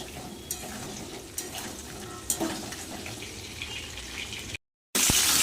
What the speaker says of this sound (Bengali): এবার ফুলকপি আর আলু একসাথে ভালো করে ভেজে নেব